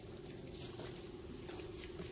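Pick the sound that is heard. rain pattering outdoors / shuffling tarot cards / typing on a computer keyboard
rain pattering outdoors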